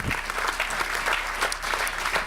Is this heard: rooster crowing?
no